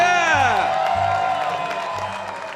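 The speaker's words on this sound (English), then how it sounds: "Give yourself a big round of applause" Audience cheering and whooping in a barn at a live music show, a crowd roar with a held musical tone that fades over a couple of seconds.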